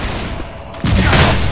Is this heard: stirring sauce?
no